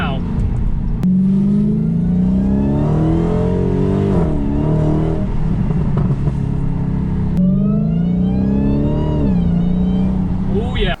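A turbocharged LS-swapped Mustang engine revs loudly from inside the car with the window down, rising and falling through several pulls with turbo whine on top, continuous and close.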